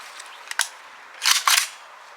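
KUSA KP9 pistol shots at a shooting competition: a couple of sharp reports early, then two louder shots close together near the end, fairly close, over a low background with no talk.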